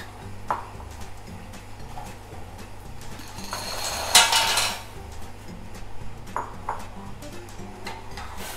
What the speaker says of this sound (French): Et on met les pâtes à cuire.